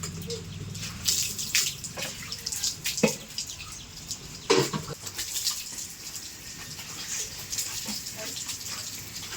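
Water poured over an idol in a village temple, splashing and gushing in uneven bursts with drips in between, with voices faintly in the background.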